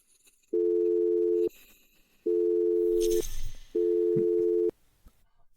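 A telephone line sounds in three long, even electronic tones of roughly a second each, with quiet gaps and a brief rustle between them, heard alone and close with no talking.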